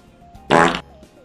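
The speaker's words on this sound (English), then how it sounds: "fart noise" A single loud, buzzy fart noise lasts about a third of a second, standing alone against a quiet room hum.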